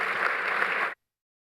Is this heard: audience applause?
yes